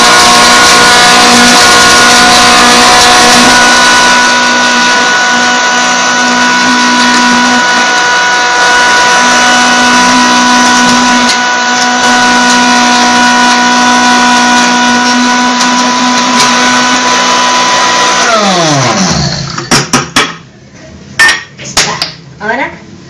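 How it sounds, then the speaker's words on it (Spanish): A blender whirs loudly and steadily as it blends grated coconut for coconut balls, then the motor winds down and stops, followed by a few clattering knocks. "De nuevo empezamos a licuar."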